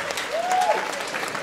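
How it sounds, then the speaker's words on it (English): A crowd at a hypnotist's show during a bike-a-thon claps for hypnotized volunteers on stage, a short burst of scattered clapping with a brief whistle-like tone rising and falling in the middle. "Let's give them all a big round of applause"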